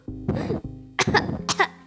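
A character in the game Sakura School Simulator coughs and chokes in a few harsh, close bursts, the first longer and rasping, then quicker hacking coughs in a short run.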